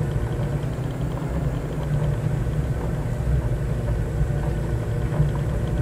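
A light aircraft engine in Microsoft Flight Simulator 2020 is powering up on a grass airstrip. The drone is steady, low and rumbling, holding an even loudness throughout with no voices.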